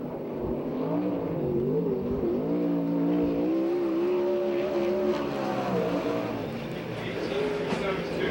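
A USAC/CRA sprint car runs a qualifying lap at Perris, its engine a continuous loud drone rising and falling in pitch as it revs through the turns, with an announcer talking faintly underneath.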